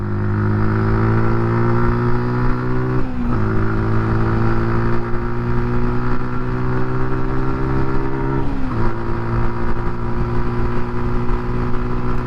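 A vehicle carrying a 16-stone rider accelerating on a slight downhill up to 60 in top gear: a loud, steady engine drone climbing in pitch, interrupted by two brief gear shifts, no talking.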